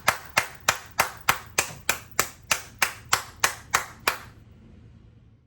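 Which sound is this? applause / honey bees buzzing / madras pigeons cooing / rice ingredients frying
applause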